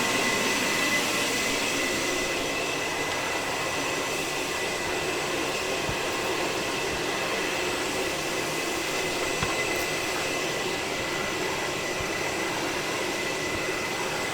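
A Bissell Garage Pro wall-mounted wet/dry vacuum runs with a steady, loud broadband whoosh and motor hum, unbroken for the whole stretch, with a few faint bumps underneath and no voices.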